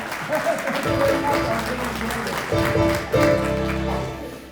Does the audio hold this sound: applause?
yes